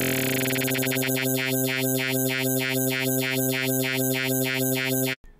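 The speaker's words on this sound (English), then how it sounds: "we can bring the pitch down on this modulation sine wave." A synthesized sine wave tone from Native Instruments Massive with a rhythmic, wobbling pitch modulation that starts fast and settles into a steady pulse, then cuts off abruptly.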